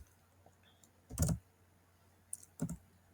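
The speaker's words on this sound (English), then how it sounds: "Pardon my typing. I'm still trying to get used to the keyboard." Bursts of typing on a computer keyboard, a cluster of keystrokes near the start and another brief pair later, close and fairly loud against a quiet room.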